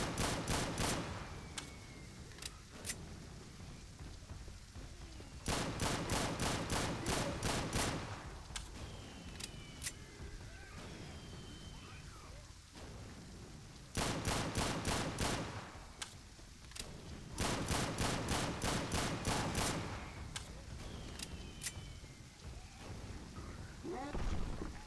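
Rapid automatic gunfire rattles in Left 4 Dead 2 on a pier level, several sharp sustained bursts of evenly spaced shots punctuated by single cracks, set against steady rain-like background noise.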